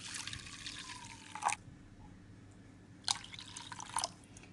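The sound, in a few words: water poured into pot for oats soup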